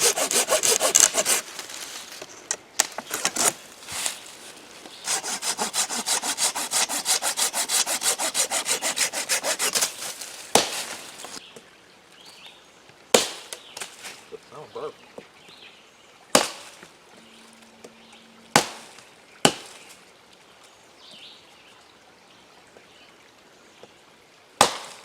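Hand sawing through firewood in steady rhythmic strokes, followed by a series of sharp knocks and snaps as pieces break or are chopped.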